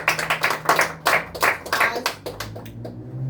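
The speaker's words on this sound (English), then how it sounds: "Let's give her a round of applause." A small group claps for a few seconds at an evening game session, the individual claps loose and irregular before fading out, alone without talk.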